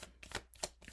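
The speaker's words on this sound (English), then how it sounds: "I'm going to shuffle one more time" A quick riffle of cards being shuffled, several short papery flicks in rapid succession, close and quiet.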